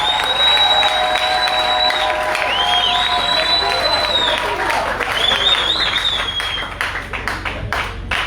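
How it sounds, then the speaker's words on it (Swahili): A church congregation claps and cheers for Jesus, a dense, loud wash of applause running throughout, with a sustained tone and crowd voices mixed in underneath. "Tumfanyie kwanza makofi kwa Yesu."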